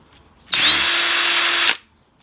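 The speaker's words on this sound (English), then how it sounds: "basically just took a air file just on a cordless drill" Cordless drill spinning an air file to widen the flange holes on an Audi A4 B7 test pipe, one steady high whine lasting about a second, loud and close, with no talk.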